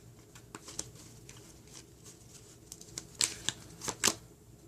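Tarot cards are handled and shuffled from a deck, giving quiet papery riffles and sharp little flicks, with the final few snaps louder, close up in a hushed room.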